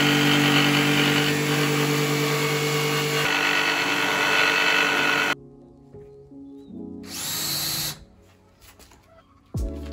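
A power tool cuts a hole through a wooden stand-in board, a loud, steady whining grind that stops abruptly partway through, followed by quieter handling noises and a brief burst of cutting.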